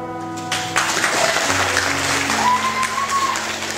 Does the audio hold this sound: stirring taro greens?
no